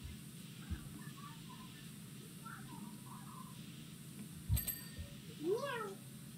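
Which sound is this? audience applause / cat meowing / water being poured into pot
cat meowing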